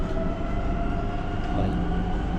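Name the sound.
Rome metro train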